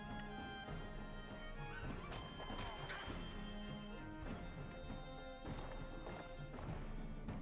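Horse attack in the video game Wartales: galloping hoof clip-clops with a neigh and heavy impact crashes, layered over continuous game music.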